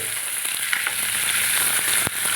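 Onions frying in a pan over a low gas flame, a steady bright sizzle running throughout with faint stirring scrapes and one brief louder clatter near the end.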